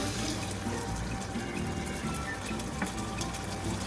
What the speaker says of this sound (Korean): 이렇게 면수를 붓고